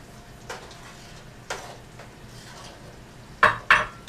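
Metal spoon clinks and scrapes against a pot while thyme is stirred into Italian spaghetti sauce, a handful of faint separate knocks with two sharper taps close together near the end.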